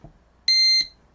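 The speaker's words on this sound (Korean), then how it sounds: "이거는 제가 들으라고 나오는 부저음이 아니라 내가 버튼을 눌렀구나 라고 하는 거를 피드백을 주는 소리인 겁니다" One steady electronic buzzer beep, about a third of a second long, clear and close, sounds as feedback when an Arduino-built doorbell button is pressed, with near silence around it.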